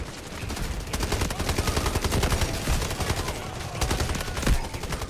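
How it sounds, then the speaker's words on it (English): Rapid automatic gunfire and explosive weapon bursts from the Delta Force video game, including a grenade launch, rattle continuously and loudly at close range throughout, with no speech. "Launching grenade!"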